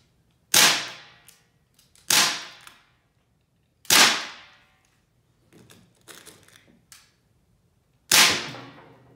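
Four sharp, loud gunshots ring out at irregular intervals, each with a quick decaying tail, aimed at random items, with a couple of softer impacts and rustles between them.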